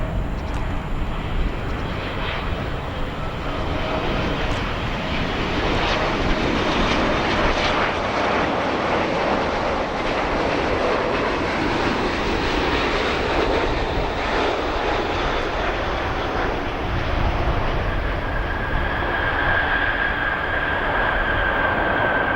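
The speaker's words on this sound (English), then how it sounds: "Arriving now, our KLM 777 today from Amsterdam." A KLM Boeing 777 airliner arriving at Chicago O'Hare airport, its jet engines a loud, steady broadband roar with a rising whine late in the pass, heard alone without talk.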